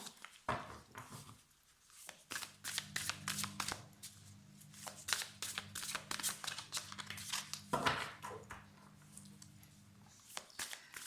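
Tarot cards being shuffled by hand, a run of crisp, rapid riffling and flicking bursts that repeat with short pauses, close and fairly loud, with no talking over them.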